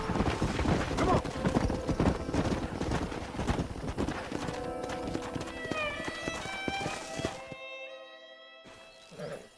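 Horses gallop in the Western video game Red Dead Redemption, with rapid, close hoofbeats pounding and a whinny, before the hooves slow and the scene drops to near silence with faint tonal sounds.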